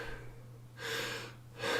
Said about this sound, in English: that's called chest breathing